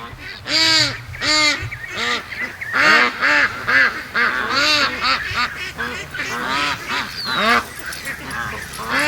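Ducks and ducklings calling in a busy run of loud, close honking quacks, several birds overlapping in bursts, with brief talk mixed in.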